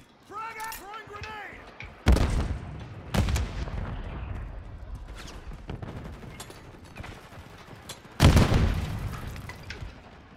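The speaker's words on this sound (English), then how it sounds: "Frag out! Throwing grenade!" Frag grenade blasts and gunfire in Modern Warfare 3 multiplayer: two heavy booms land near the start, with another loud blast near the end and scattered shots and rumble between, under voices.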